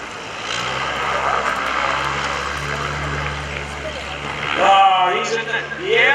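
A Decathlon aerobatic airplane making a low pass at an airshow, its propeller engine droning steadily and swelling louder near the end, while people talk over it nearby.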